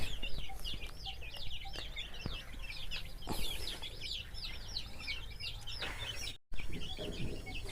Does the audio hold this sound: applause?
no